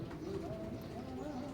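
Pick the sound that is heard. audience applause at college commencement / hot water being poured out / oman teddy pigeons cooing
oman teddy pigeons cooing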